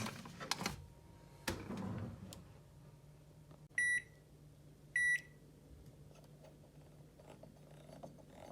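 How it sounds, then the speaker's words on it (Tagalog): Microwave oven being set to heat oysters: a few clicks and door thuds, two sharp electronic keypad beeps, then the faint steady hum of the oven running, close and quiet. "Ma-microwave lang for 4 minutes."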